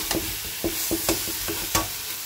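Egg curry with cumin, ground coriander and turmeric being sautéed and stirred in a pan: a steady series of scraping spoon strokes, roughly two per second, over a soft sizzle, close and clear with no talking.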